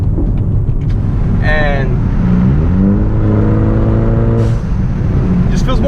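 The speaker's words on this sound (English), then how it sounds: "I just fell in love with the blow-off valve" A turbocharged Hyundai Elantra 1.6T fitted with a SXTH Element blow-off valve revs up loudly. The engine tone climbs steadily over constant road rumble, and a voice briefly speaks early on.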